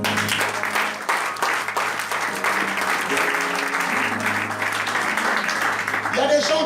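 A church congregation applauds in a sustained wash of clapping that runs throughout, with a voice speaking over it and rising faint tones near the end.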